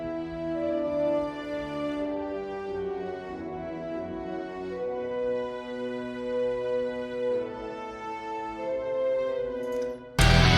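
Sustained orchestral violins and horns swell together in layered, legato chords, with low cellos underneath, ending with a sudden loud burst at the close; sampled BBC Symphony Orchestra instruments.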